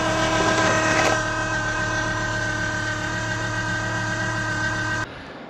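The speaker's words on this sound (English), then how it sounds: "I'll probably try and insert a clip here of the noise that I was getting from the tensioner" A noisy cambelt tensioner on a Volvo V70 2.4 10V engine produces a steady, loud running drone with a tonal hum, a brief harsher burst early on, then a sudden drop in level near the end.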